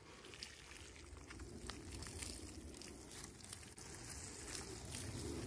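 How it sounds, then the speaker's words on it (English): Water pours steadily from a watering can over loose garden soil around freshly transplanted daylilies, a continuous low splashing rush that stays even and close throughout, with no talk. "Second watering can of water, right over all the soil this time."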